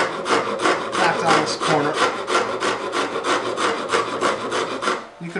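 A hand rasp files a wood carving with quick, loud, rhythmic back-and-forth strokes, about three per second, up close, then stops near the end.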